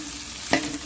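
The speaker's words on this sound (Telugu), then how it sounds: "ఇది కూడా చక్కగా పచ్చివాసన పోయేలాగా కొంచెం వేపేసుకుందాము" Garlic pieces fry in a pan with a soft, steady sizzle, broken by one brief scraping stir near the middle, quiet and close.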